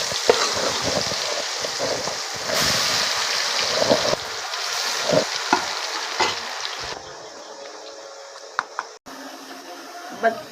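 Food frying and being stirred in a pan in a home kitchen, a loud sizzle with scraping stirs and clatter, easing to a quieter sizzle near the end.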